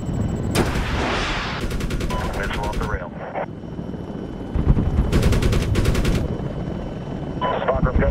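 A missile strikes mortar positions in Medal of Honor Tier 1, with heavy rumbling blasts and crackling gunfire rolling continuously, loud and close, as bursts of clicking radio chatter cut in over the din.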